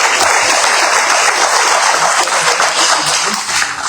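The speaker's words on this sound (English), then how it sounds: "Let's clap for them one more time." A crowd at a formal education launch event in Liberia applauds loudly and continuously, a thick, close wash of clapping that holds steady for about four seconds.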